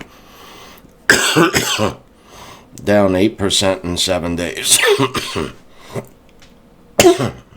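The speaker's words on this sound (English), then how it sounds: "I told you I'm starting to cough a bit." Someone talks with a few sharp coughs mixed in between his words, close and loud.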